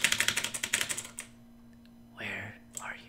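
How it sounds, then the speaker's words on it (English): Fingers typing on a computer keyboard during a Roblox game session, a quick run of close, crisp key clicks for about a second, then near silence with a steady hum and a few brief soft noises. "I can hear some fingers moving, hitting the keyboard like..."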